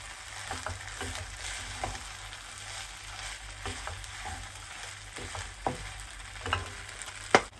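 Fried rice sizzles and fries with sauce added, a steady broadband hiss broken by scattered crackles and a few sharper pops near the end, close and fairly quiet.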